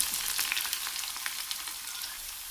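Shallots sizzle and crackle in hot coconut oil with popped mustard seeds and a pinch of fenugreek, a steady close frying hiss with dense small pops throughout, no voices.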